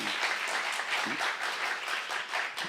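A congregation claps during a sermon at a Korean Saturday church service, a brief burst of many hands with a pulsing, slightly rhythmic texture that stays fairly loud and unbroken for under three seconds.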